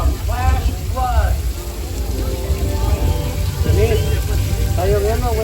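Simulated flash flood rain on the Universal Studios Hollywood studio tour pours as a steady hiss and patter while voices talk over it.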